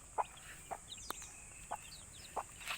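Chickens and chicks on the ground, giving a few short soft clucks and peeps spaced about half a second apart, fairly faint with quiet background noise.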